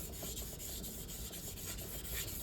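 A kitchen knife is drawn over a 3,000 grit whetstone in close, continuous gritty rubbing strokes with an even back-and-forth rhythm and no talking.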